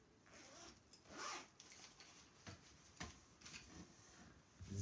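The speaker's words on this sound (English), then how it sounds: "My pencil case has a zip here too." A pencil case zip is pulled open and shut in several quick, soft strokes with short pauses between them, heard close up in a quiet room.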